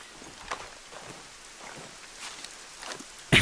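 Rain in the video game Ghost Recon Breakpoint, a soft steady hiss with faint scattered drop taps, then a sudden louder burst at the very end.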